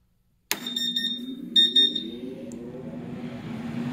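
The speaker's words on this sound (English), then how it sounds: "We're gonna get a low flow alarm." A water-cooled spindle cooler's low flow alarm starts abruptly, repeating high electronic beeps in short bursts over the unit's running hum.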